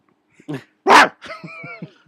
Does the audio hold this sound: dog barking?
yes